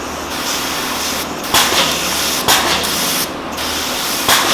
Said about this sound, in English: I'm going to spray it into this plastic trash bucket